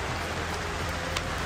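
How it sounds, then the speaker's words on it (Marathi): Rain falling steadily over the weekend in Badlapur just after a trek, a continuous soft hiss with faint patter, alone without voices. "ते पाऊस आता आला आमचं सगळं ट्रेक पूर्ण झाल्यावरती"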